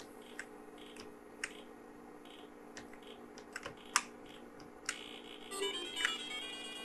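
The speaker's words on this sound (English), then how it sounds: "It's hard to play with the keyboard, actually." Computer keyboard keys on an early PC clone are pressed while Arkanoid is played, giving sparse, quiet clicks and taps at irregular intervals over faint electronic hum, with a short beeping game sound near the end.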